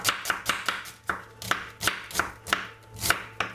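A knife chops a medium red onion on a cutting board in a home kitchen, giving sharp, evenly spaced strikes at a steady rhythm, close and clear, with no talking.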